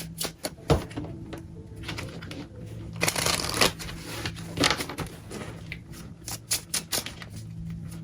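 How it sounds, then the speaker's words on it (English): Tarot cards are shuffled and riffled by hand in a quiet room, a run of crisp papery flicks and soft slaps in uneven bursts, with one louder snap near the start. "let's pull some cards for their shared energy here"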